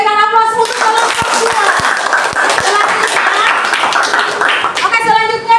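Applause from a classroom audience greeting a presenting student group, dense steady clapping filling the whole stretch, loud and close, with speech before and after it.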